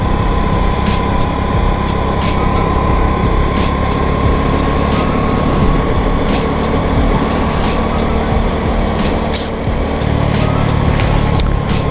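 A Lagenda 110Z motorcycle ridden at night on a road, its small engine droning steadily and loudly with rushing wind and road noise throughout, the note holding fairly constant.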